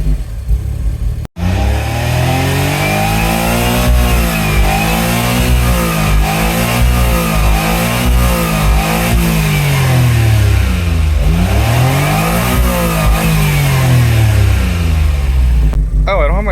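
A Suzuki Cara Autozam AZ-1 engine, suffering a phantom rev limiter fault, is held just above idle with light throttle, its revs rising and falling in slow waves, loud and close, after a brief sharp knock at the start.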